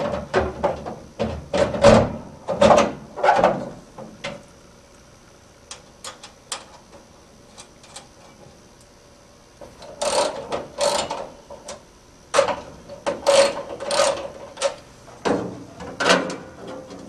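An 18-60 lb commercial washer door is reinstalled, giving bursts of metallic clicks, ratcheting and clanks in separate clusters with quiet gaps between them.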